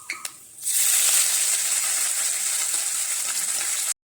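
Red amaranth greens land in hot oil with fried crushed garlic and dried red chilli, setting off a sudden loud sizzle after a couple of light clicks. The steady hiss runs close-up for about three seconds, then cuts off abruptly.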